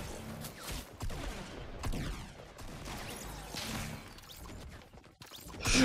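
Gunfire in Fortnite crackles in quick, scattered bursts amid clattering game effects and impacts, fairly quiet and busy throughout, ending in a louder hit.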